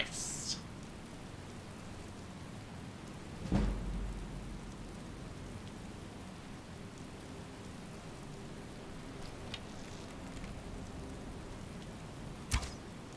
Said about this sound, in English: I like rain a lot. It's a very satisfying noise.